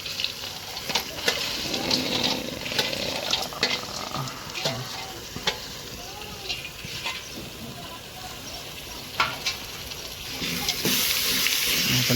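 Chopped cashew nuts with turmeric sizzle and fry in a pan for kaju paneer masala, with a steady hiss under repeated scraping taps of a stirring spoon against the pan.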